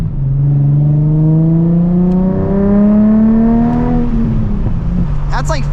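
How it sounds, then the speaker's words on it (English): A 2006 Nissan 350Z's V6 engine revs at part throttle, its note climbing smoothly for about four seconds before dropping off, with sharp crackling pops from the exhaust at the end. "And those backfires, it makes it sound like a rocket ship."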